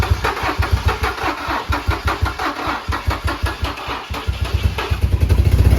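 A Nissan G35 with a VQ35DE engine that has an exhaust leak cranks and starts, giving a loud, close, rapid rhythmic chugging that speeds up and grows louder toward the end.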